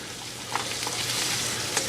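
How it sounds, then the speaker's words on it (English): Steady, dense sizzling of onions stir-frying in hot oil, with faint scraping and stirring clicks, close up and continuous. "Just keep stir frying these and get all the onions coated with that hot oil"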